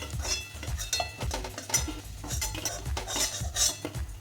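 Fried fish-roe fritters lifted out of a frying pan, with a run of sharp metallic clinks and scrapes from a utensil against the pan, close and fairly quiet, no voices.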